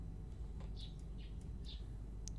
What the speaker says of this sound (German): Klingt wie ein Vogel.